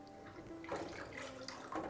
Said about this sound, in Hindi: अब मैं इसमें थोड़ा सा पानी और डालूंगी